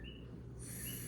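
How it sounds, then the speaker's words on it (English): Coqui frogs calling at night in Puerto Rico, a thin high chirp repeating faintly in the background, with a brief call near the start and a longer sustained call in the second half over a low steady hum. "So if you hear some little chirping in the background, that's our coqui."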